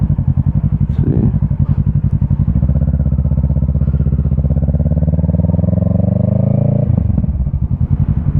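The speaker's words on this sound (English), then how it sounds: "I'm gonna see if I can give you guys a little demonstration of this bike" A Kawasaki Ninja 650 motorcycle engine revs up close and loud, its pitch climbing steadily through several gears as the bike accelerates, then dropping back near the end.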